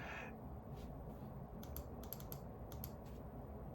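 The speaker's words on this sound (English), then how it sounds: "I'm just going to type stuff in right here" Someone types on a computer keyboard, with light, scattered key clicks over a low, steady background hiss, faint and close by, with no speech.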